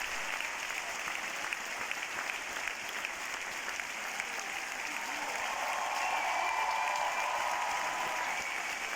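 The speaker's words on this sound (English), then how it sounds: "we could film the applause at the end" Opening-night audience in a Milan theatre applauds the end of Phantom of the Opera, a dense, steady wash of clapping that stays loud and unbroken throughout, with no voices standing out.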